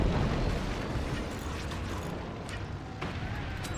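Mortar shells pounding a fort in the artillery game Forts, a dense continuous rumble of impacts and explosions with sharper hits near the end, loud throughout.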